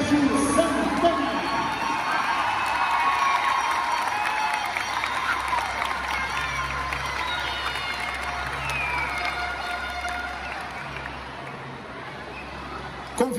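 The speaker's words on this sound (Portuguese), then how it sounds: "Vamos aplaudir a galera do Colégio Santana!" A crowd applauds and cheers for a school band at Colégio Santana, with sustained clapping, scattered shouts and children's voices, plus voices chattering throughout.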